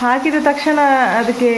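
Jackfruit chips fry in hot oil, a steady bubbling sizzle running underneath a person speaking up close who dominates the sound.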